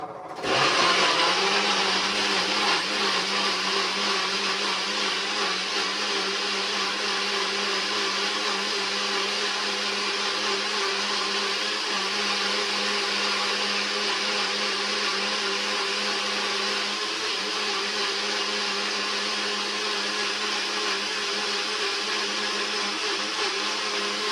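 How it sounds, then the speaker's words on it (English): A blender whirs loudly and continuously for a long stretch blending a pineapple kiwi smoothie, a steady high motor whine with a churning edge, close by and without talk. "So let's blend this up. Make a little bit of noise for a few minutes."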